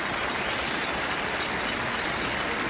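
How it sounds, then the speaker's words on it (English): Stadium crowd of Ottawa fans applauding at TD Place during a Canadian football game, a dense, steady wash of clapping and crowd noise that stays loud throughout with no break. "And a round of applause from Ottawa fans here at TD Place as Wheatfall gingerly walks off the field."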